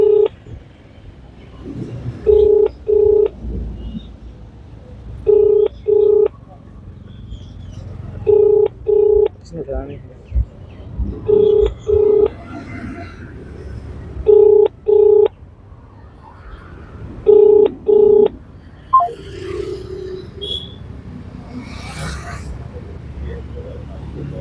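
A telephone dials out for a call: repeated pairs of short electronic dial tones come in regular bursts, with quieter background noise between them, and a person speaks faintly near the end.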